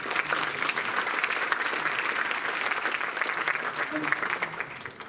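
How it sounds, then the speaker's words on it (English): Audience applause at a university book launch, a steady dense round of clapping from a sizeable crowd holding evenly for several seconds, with some murmuring underneath. "A big round of applause to all of them."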